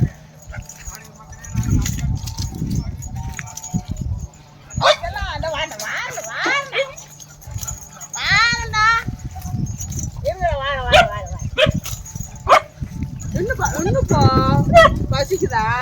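Hungry dogs at breakfast bark, yip and whimper in close, loud bursts, with a person talking over and between the excited calls.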